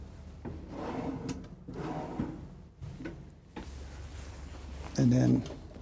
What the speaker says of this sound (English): have 4 soft closing drawers down the middle here